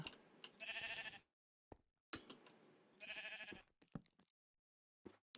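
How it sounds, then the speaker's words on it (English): Sheep in the Minecraft GregTech modpack bleat in two clear, close bursts of wavering, nasal cries, separated by short gaps and scattered game clicks, with no talk over them. "The sheep are invading the cave."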